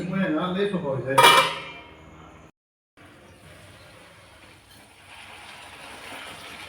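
A lid clatters onto a pan of cooked vegetables with a sharp metallic clink, followed by a brief silence and then a low, quiet hiss from the covered pan.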